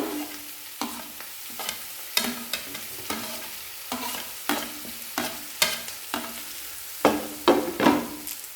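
Tomato with grated beetroot and carrot is stirred in an oily pan, giving a series of distinct scraping strokes roughly every half second over a soft, continuous sizzle.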